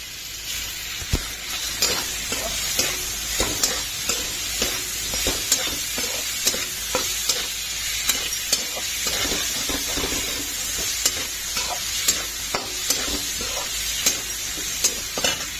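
A paneer mixture with a splash of vinegar is stirred and fried in a pan on a gas stove, giving a steady sizzling hiss broken by repeated scraping stir strokes throughout, close and moderately loud.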